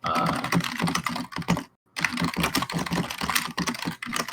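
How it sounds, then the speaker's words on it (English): Loud computer keyboard typing, a close, rapid clatter of clicky keystrokes in uneven bursts with one brief pause, heard alone without talk. "You, sir, have a keyboard that is designed for people to hear."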